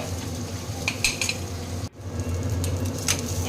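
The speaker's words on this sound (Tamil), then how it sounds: "அடுத்து ஒரு கைப்பிடி அளவு சின்ன வெங்காயம் உரித்து சேர்த்துட்டு கொஞ்சம் எண்ணெய் விட்டு இது நல்லா செவக்க" Small peeled shallots frying in oil for a Tamil country-chicken fry, a steady close sizzle with stirring and a brief scrape of a spoon against the pan.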